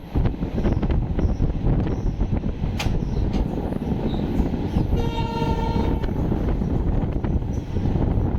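New Jalpaiguri to Haldibari passenger train running, a steady loud roar of wheels and carriages close by with wind buffeting, and a harmonic horn sounding for about a second midway.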